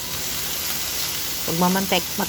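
Pork fat frying in oil with garlic, chili and a little onion, a steady sizzling hiss that runs throughout, with a few brief clinks and a short stir of harmonic scraping near the end.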